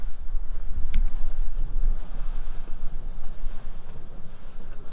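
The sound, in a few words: water moving in steaming geyser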